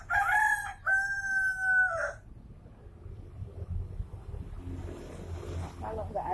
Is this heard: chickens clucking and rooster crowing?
yes